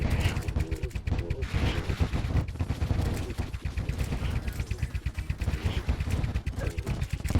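Rapid volleys of hellfire arrows loosed from a bow against Duke Fishron in Terraria, a dense, continuous crackle of loud bursting impacts with no pauses, busy and close throughout.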